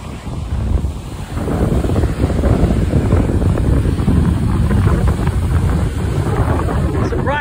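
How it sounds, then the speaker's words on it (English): Small ocean waves on the Jersey shore at Seaside Heights wash in a continuous loud surf roar, with strong wind buffeting the microphone throughout. "These are baby waves."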